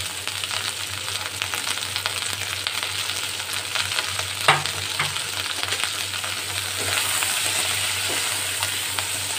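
Bitter gourd pieces are stirred with salt and turmeric in a hot pan, a continuous sizzle with scraping and occasional soft clinks from the spatula, close and steady.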